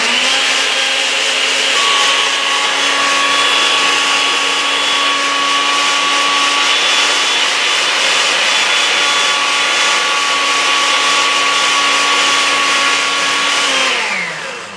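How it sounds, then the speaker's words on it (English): A blender whirs steadily as it purées jalapeño peppers in milk for whole wheat jalapeño cheddar buns, a loud continuous motor drone with a strong steady pitch that holds for about fourteen seconds and then winds down as it is switched off. "if I just throw in straight peppers into the blender, they get hung up and they don't blend"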